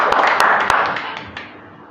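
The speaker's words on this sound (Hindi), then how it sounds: "ये तो ताली होनी चाहिए यार" Brief burst of audience applause, a crisp patter of many hands clapping loudly at first and then fading away over about two seconds.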